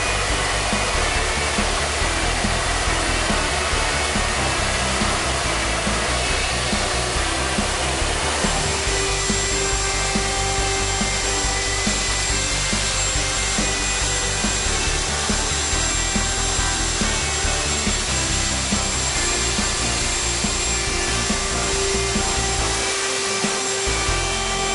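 A wood router guided by a Milescraft SpiroCrafter cutting a pass through a wooden trim board, a steady loud high whine with grinding texture running continuously, close by and without talk.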